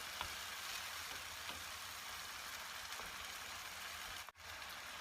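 Sardine kofta mixture sautéing together in a pan, a soft, even sizzle and crackle with a brief stir near the end, faint and steady.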